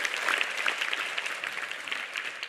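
A crowd of santri claps for Kiai Asrul Niam, an official of Indonesia's Ministry of Youth and Sports, at a gathering on youth and national defence. The applause is dense, lively and close, and fades slightly at the end.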